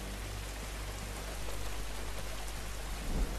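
Steady heavy rain from a thunderstorm in the PS4 game The Last of Us Remastered, a constant even wash of downpour with faint low rumbling beneath and a brief thump near the end.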